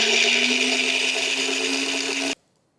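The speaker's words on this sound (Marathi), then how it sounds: "हे मिक्सरमध्ये ओबडधोबड वाटून घ्यायचं." A kitchen mixer grinder whirs loudly at high speed, coarsely grinding green chillies, cumin and ajwain, running steadily for a couple of seconds before switching off abruptly into silence.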